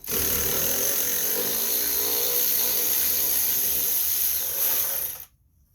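A power tool spins a socket on a 3/8 bolt on a Craftsman 205cc leaf vac, a steady close whirr for about five seconds before it stops abruptly.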